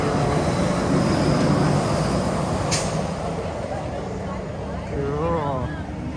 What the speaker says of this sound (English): Ooh, look, it's the monorail.